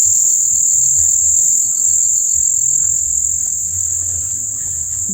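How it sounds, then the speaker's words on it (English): Loud, steady high-pitched cricket chirring fills the night air near Bonkro, Ghana, continuous and close, with faint low rumbles beneath. "These crickets are so loud, they go right through your head."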